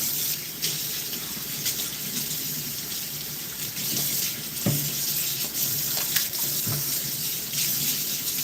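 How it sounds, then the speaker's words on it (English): Tap water runs steadily into a sink while meat is rinsed underneath, with a few splashy knocks and clatters over the constant close gush and no speech. "I always like to rinse my meat before I start cooking it"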